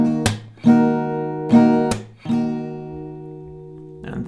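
Acoustic guitar strumming the rhythm: sharp percussive hits and ringing chords in a down, clap, down pattern, with short breaks between strokes, played alone and close.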